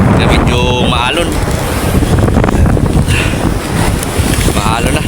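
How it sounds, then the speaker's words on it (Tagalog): Strong monsoon wind buffets a fishing boat on a choppy sea, roaring steadily and loudly across the microphone with a rushing wash of water and faint voices underneath. "Bali, malakas na yung habagat ng mga kabiwas. Medyo maalon."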